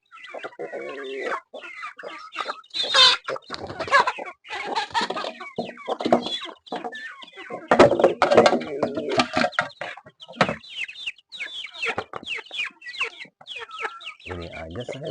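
Free-range village chickens (ayam kampung) on a simple farm, clucking and calling in repeated close bursts over several seconds, with a faint voice briefly in the background.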